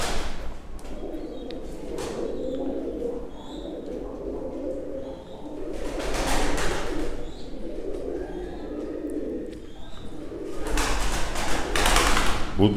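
Mardin tumbler pigeons coo softly in a loft after being let out, low rolling calls mixed with rustles and thumps, under ongoing talk in the background.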